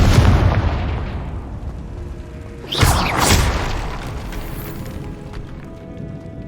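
Confringo fire spell blast in the game Hogwarts Legacy: a sharp fiery burst near the middle, with a whooshing rise and a rumbling decay over a low roar, no talk.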